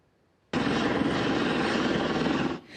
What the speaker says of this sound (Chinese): 救援直升机用吊索甲受伤的牛对瑞士闻名的观光胜地瓦莱州撤离。